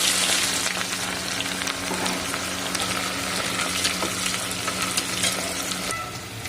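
Onions fry in mustard oil in a hot pressure cooker, a loud, close, continuous sizzle with a dense hiss and faint stirring clicks. It eases slightly toward the end, with no talking.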